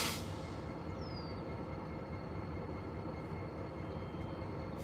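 Freight train 261 idles on a siding near Albia, Iowa, a steady low diesel rumble holding constant throughout, moderately distant, with no talking.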